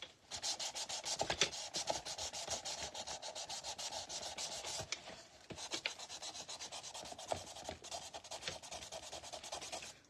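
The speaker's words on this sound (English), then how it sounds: "And I need to sand this down. Let me just put another small piece of sandpaper." Fine 1000-grit sandpaper rubs back and forth on wood trim in quick, rhythmic scratchy strokes, close and fairly quiet, with a couple of brief pauses and no talk.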